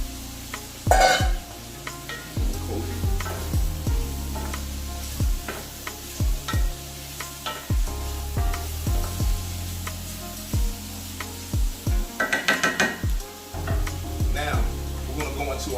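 Blanched green beans hit a hot pan with a soft sizzle, then are stirred and tossed, giving repeated scraping and clacking of a utensil against the pan over a steady frying hiss.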